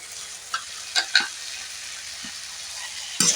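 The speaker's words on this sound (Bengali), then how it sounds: "পেঁয়াজ পাতাটাকে দিয়ে এক মিনিট এইভাবে নাড়াচাড়া করে নেবো" Onion greens are stirred into dried fish masala frying in a pan, giving a steady hiss of sizzling with a few sharp scrapes and clinks from the utensil, close up.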